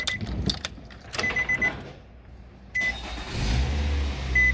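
A 2013 Nissan Rogue engine cranks and catches after a quiet pause, then settles into a steady low idle, close and moderately loud, with key and interior clicks heard earlier.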